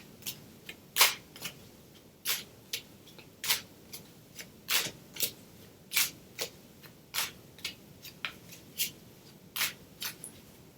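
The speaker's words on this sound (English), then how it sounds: "So I just cut the deck in two like this." Tarot cards riffled and cut in a steady run of crisp, snappy bursts, close and fairly quiet, with no voices.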